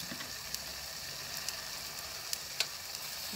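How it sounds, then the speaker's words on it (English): Ripe plantains frying in a thin layer of oil in a pot over a medium flame, giving a steady, quiet, hissing sizzle with a few faint pops and crackles and no voices. "We're gonna fry the plantains on a medium flame"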